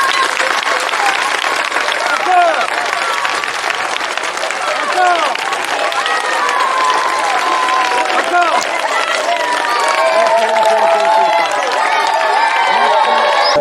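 Schoolchildren at a private school flag-raising ceremony applaud a pupil with steady, dense clapping that runs throughout, mixed with excited children's voices and shouts close by.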